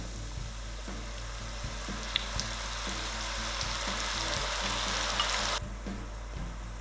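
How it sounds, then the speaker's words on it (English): Onions drop into oil heated to 180 degrees C for a Danish bøf sandwich, setting off a loud, continuous sizzle up close, punctuated by small pops and clicks; the hiss cuts off sharply near the end while a low hum carries on. "I'm just going to add in my onions into the oil here, and it is those 180 degrees C."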